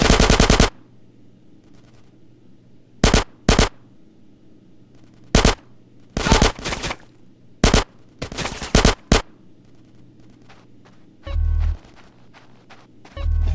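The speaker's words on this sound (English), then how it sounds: "Get some suppressing fire in there!" Gunfire in the video game GTA San Andreas, loud bursts of automatic shots and single cracks spaced irregularly across a quiet background, with a heavier low thump near the end.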